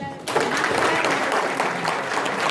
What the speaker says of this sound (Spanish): Den un aplauso a Jesús